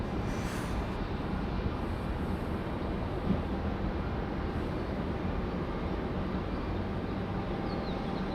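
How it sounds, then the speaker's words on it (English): An Alaska Airlines jet on short final into Raleigh-Durham airport, a continuous broad engine roar heard from a distance, steady and even across the whole stretch with no voices. "Alaska Airlines on a short final."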